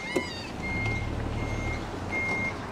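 Truck reversing to a wood chipper, its back-up alarm giving a steady run of high beeps over the low rumble of the idling engine, fairly close, with no talk.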